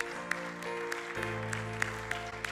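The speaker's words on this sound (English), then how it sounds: "Can we just clap to the Lord again today?" Church congregation clapping during a Sunday service, a steady rhythmic beat of hands over sustained organ or keyboard chords, filling the room at moderate volume.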